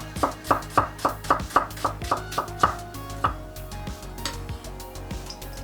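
A knife chops onion on a cutting board for a fattoush salad, with about ten fast, evenly spaced knocks followed by a few slower, scattered taps, all close and clear with no voices.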